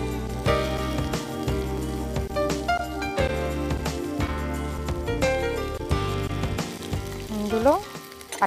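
Onion pieces fry with whole spices such as cinnamon and cloves, sizzling and crackling under loud, busy background music that dominates throughout.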